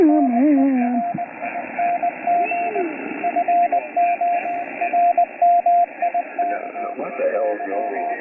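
On-off keyed CW Morse tones from an HF ham radio band, a steady train of short and long beeps at a fixed pitch over a hissy receiver noise floor, with other faint signals drifting nearby.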